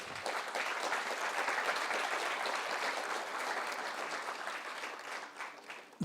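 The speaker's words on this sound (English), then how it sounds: "I would like a round of applause for" Audience applause at a mentors' session of the FKCCI Manthan 2022 event, a steady dense wash of many hands clapping that carries on for several seconds and thins out near the end.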